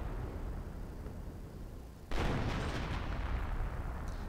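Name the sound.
Royal Artillery barrage from the video game Company of Heroes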